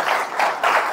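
An audience at a motivational speech claps in three short swelling bursts, a brisk crackle of many hands fading between each surge.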